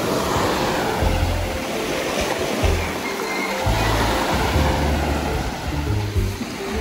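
Sea waves wash onto a beach at San Andres, Quezon, a loud continuous roar of surf with rolling low surges and wind buffeting the microphone.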